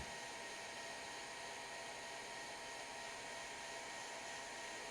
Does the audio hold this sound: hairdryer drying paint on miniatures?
yes